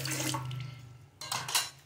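Water is poured into a cooking pot holding two cups of sugar, with one and a half cups measured in, heard as a brief soft splashing pour, then a second short gush after a pause.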